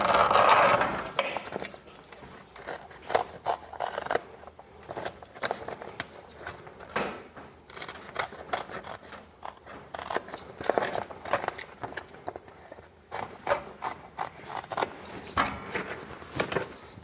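Scissors snip a small notch, making a rapid series of close, crisp cuts and clicks with short pauses between bursts, heard alone without talk.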